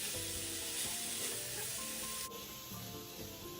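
Shredded white radish and minced meat stir-fry in a wok over high heat, a loud steady sizzle with scraping stirring strokes, the hiss dropping slightly partway through.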